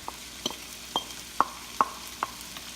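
Pork with shrimp paste is stirred in a pan, with a spoon scraping in a few sharp, evenly spaced strokes over a quiet low sizzle, nearby and fairly soft.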